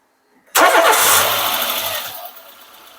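A 2009 Dacia Logan with a 75 hp 1.4 MPI engine and 57,000 km is started with the key: a short crank, then it catches with a loud, close burst that settles into a steadier idle and slowly fades.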